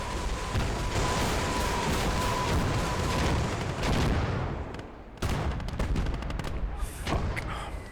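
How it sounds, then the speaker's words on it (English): Artillery booms and dense rattling gunfire fill a battle in the video game Call to Arms: Gates of Hell, with loud, continuous bursts and a few sharper blasts. "Another fucking artillery gun now."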